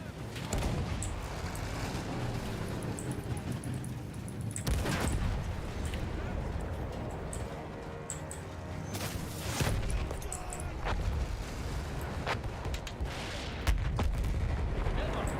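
Field gun firing in the Battlefield 1 war game, heavy booming blasts recurring among constant battle din and gunfire, with shouted voices over the chaos.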